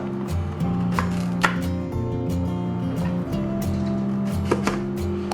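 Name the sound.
chopping sweet potato with a knife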